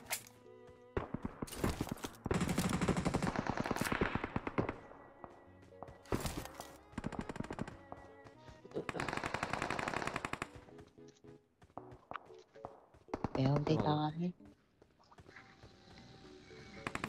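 Gunfire in PUBG Mobile: several loud bursts of automatic rifle fire and single shots come in irregular clusters with short pauses between them, mixed with footsteps and a few thuds.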